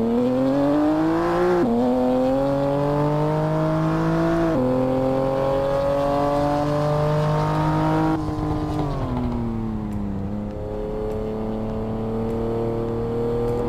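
A BMW M4 with about 500 PS revving hard and accelerating through several gears, a loud close engine note climbing steadily with clear drops at each shift, running alone without talk.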